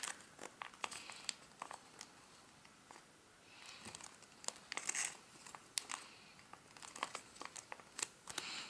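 Paper being creased and folded into an origami bat, with intermittent crisp crinkles and rustles, close and fairly quiet, coming in irregular bursts with short pauses between.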